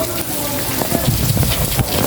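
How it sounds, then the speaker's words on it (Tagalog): Heavy rain falls steadily in a narrow alley, a dense hiss on surfaces with scattered drops and splashes, continuous and fairly loud throughout. "talagang inabot po tayo ng ulan. Medyo malakas din ho"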